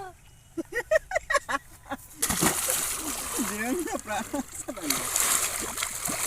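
Water splashing and sloshing as people bathe in a village canal, busy and close after a brief spoken line, with voices talking over the splashes.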